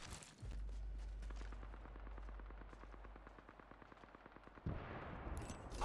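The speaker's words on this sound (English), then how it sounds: "Definitely hear some shoots." Distant gunfire in Apex Legends: a long, faint run of rapid, evenly spaced shots, like automatic fire far off, under a steady low hum. It ends in a closer, louder burst.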